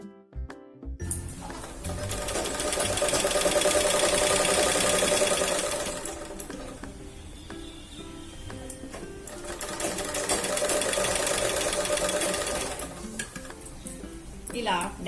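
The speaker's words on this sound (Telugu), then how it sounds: "ఈ పాయింట్ నుంచి ఈ పాయింట్ వరకు స్టిచ్ చేసుకుంటాం మనం ఇప్పుడు" A sewing machine stitching fabric for a potli bag runs in two long, steady, whirring bursts, close and loud, with a brief slower stretch between them.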